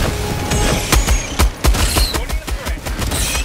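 Turret gunfire in the video game Helldivers 2: rapid, loud bursts of shots with sharp cracks and low booms, repeating irregularly over a steady din of battle.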